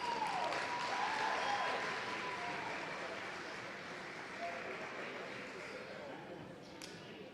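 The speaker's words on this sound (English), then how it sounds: "please give one last round of applause for our senior dance team members." Sustained crowd applause fills a high school gym at a boys basketball game, a clapping ovation for the senior dance team that starts loud and slowly tapers off over several seconds.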